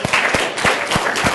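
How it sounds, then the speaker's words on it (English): A small tech-talk audience applauds a quiz winner, with steady clapping punctuated by a few sharper hand claps, moderately loud and close throughout. "Give him a round of applause."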